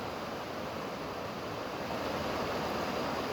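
Water outdoors among trees and greenery: a constant broadband wash like surf or rushing water. It stays at a steady level throughout, with no voices.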